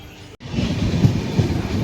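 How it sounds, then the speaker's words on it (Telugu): A passenger train on the Velankanni to Ernakulam route pulls out of a station, a low steady rumble of wheels and carriage building after a brief dropout, close and continuous. "ఇది బయలుదేరుతూనే ఉంది ట్రైన్."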